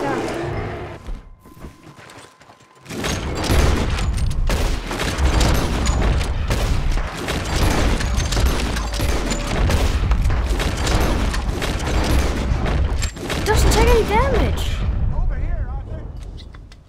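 Rapid, loud gunfire from a hunter's rifle while shooting at a bear in Red Dead Redemption 2, a dense burst of shots lasting many seconds amid voices and game sounds.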